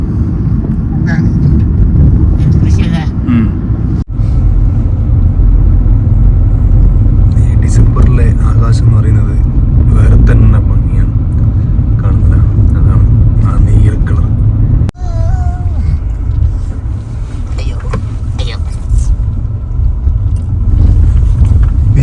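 A car climbs a winding mountain ghat road toward a village, its engine rumbling steadily and loudly throughout while people talk over it inside the vehicle.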